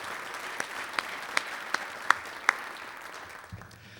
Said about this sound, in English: Can we have another round of applause for all 5 of our sponsors this afternoon,